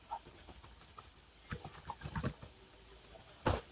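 Computer keyboard typing a Linux command, with a quiet irregular patter of key clicks building to a denser run and ending in one firmer keystroke, alone and close.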